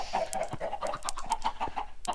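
Chickens cluck in a video game, a run of short, close, rhythmic clucks repeating steadily with a few sharp clicks and taps mixed in.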